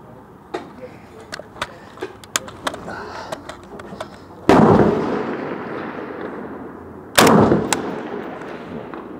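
Two loud booming rifle shots from an SA80 L85A1 5.56mm at a shooting range, each with a long rolling echo, preceded by a series of small clicks and knocks of handling.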